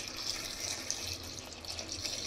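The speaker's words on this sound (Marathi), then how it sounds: "ह्याच्यात आपल्याला पाणी टाकायचं आहे" Water splashes steadily into a cooking pot of lentils with chopped vegetables, a continuous close hiss and trickle with no talk.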